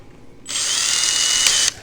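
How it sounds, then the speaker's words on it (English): A handheld power drill with a three-jaw chuck spins up close and loud, holding a steady high whine for just over a second before cutting off abruptly, with no talking. "I'll use a regular handheld drill so you can kind of get an idea of what's called a three-jaw chuck"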